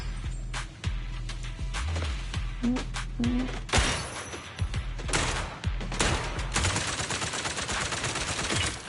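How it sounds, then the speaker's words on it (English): Exploding targets being shot and popped in the video game Zenless Zone Zero, with loud sharp gunshots and bursts of rapid fire mixed with bursting, shattering blasts, all close and punchy. "these exploding targets are the exception. They're just too satisfying to pop."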